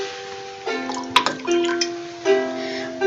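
Spring water poured out as an offering in a ritual setting, a close trickling and splashing stream with ringing tonal gurgles and one sharp clink, running steadily without talk.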